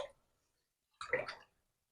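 Water is poured from a cup into a container in a single short splash near the mic, preceded by a faint trailing pour, with no talking.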